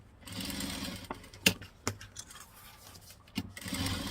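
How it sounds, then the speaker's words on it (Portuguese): A sewing machine with a thick needle runs a trimming seam on patchwork fabric for a large zippered cosmetic bag, its motor whirring steadily between a few sharp thumps and clicks, close and fairly quiet. "E agora aqui eu vou passar uma costura para recortar o que sobrou."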